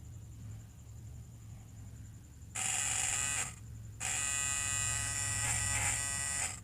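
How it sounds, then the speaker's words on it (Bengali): A small DC motor with an attached blade whirs in a high buzzing whine, starting abruptly, cutting out briefly, then spinning again steadily over a low background hum. "আমাদের মোটরটি ঘুরছে, ব্লেডটি যে পিনটা আমরা লাগিয়েছিলাম এখানে টাচ হয়ে ঘুরছে।"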